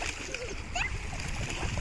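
A child splashes while swimming in the sea. The light splashing is soft and fairly distant, with voices and a whistle-like call over it.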